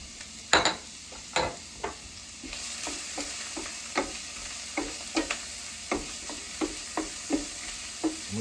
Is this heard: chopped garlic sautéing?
yes